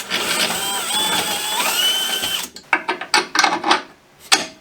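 Drill boring out shock mount bolt holes in a Jeep YJ during a Bilstein 5125 shock upgrade: a steady grinding whine for a couple of seconds, then a run of short, uneven bursts as the bit bites and stops, close and loud.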